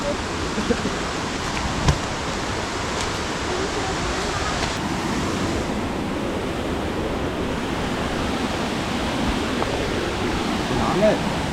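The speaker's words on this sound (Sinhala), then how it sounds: "අපි ඇල්ල ගාඩ ඇවිල්ලා තියෙන්නේ" The Miyunu Ella waterfall near Ayagama sends out a constant, dense roar of falling water, steady and fairly loud throughout with no clear pauses.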